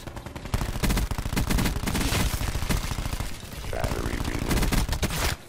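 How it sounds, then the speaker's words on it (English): Sustained rapid automatic gunfire in Call of Duty: Black Ops 4, loud dense bursts with sharp repeated shots throughout the multiplayer battle, briefly easing midway before picking up again. "I feel like I'm the only one shooting at them"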